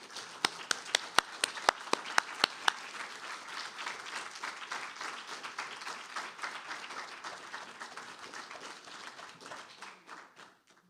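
An evening faculty presentation audience welcomes a speaker to the stage with applause, starting with a few sharp nearby claps that swell into steady crowd clapping, then gradually thin out and fade.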